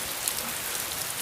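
Heavy downpour, a dense and even hiss of rain falling hard on surfaces all around, steady and unbroken across the brief moment.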